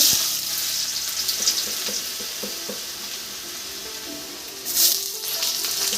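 Potatoes fry in a pan for chowmein, a steady close sizzle with occasional stirring scrapes and a brief louder hiss near the end, no talking.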